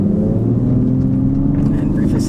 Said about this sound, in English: It's getting some crackles and pops out of that exhaust as well, which is great.